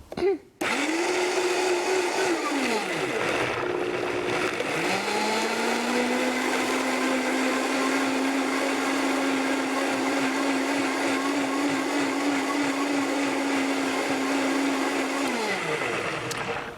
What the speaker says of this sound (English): If the cranberries are still a little grainy, blend a little longer.